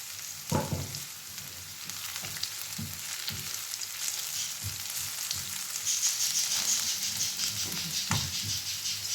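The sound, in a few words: cabbage frying in a pan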